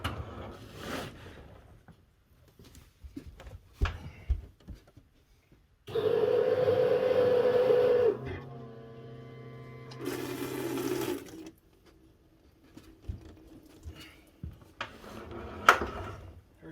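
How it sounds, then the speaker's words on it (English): An electric fuel pump on a Honda Civic hatchback hums steadily for about two seconds, followed by a lower-pitched whirring and a gurgling fuel flow, amid scattered clanks and handling noises in a quiet garage. "I have that line disconnected and I have the fuel pump hooked up."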